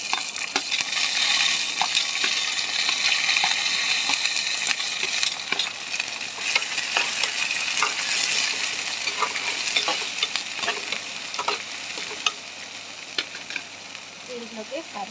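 Dried shrimp, green chillies and onions sizzle steadily in a pan for a tomato and cucumber curry, with frequent scraping and clinking of a spoon stirring close by and a voice talking quietly under the frying.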